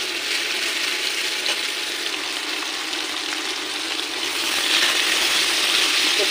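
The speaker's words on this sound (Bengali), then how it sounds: "আমি এখন একটু খাসির মাংসটা ঢেলে দিচ্ছি" Mutton frying in a pan with browned onions, a continuous loud sizzling hiss that swells slightly toward the end, close and steady with no voices.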